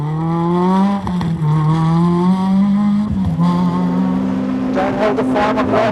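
A rally car in the 1997 ALMC Rally runs fast downhill along a loose gravel stage, its engine droning steadily with rising and falling pitch and a brief gear-change dip, loud and close throughout, with talk running over it.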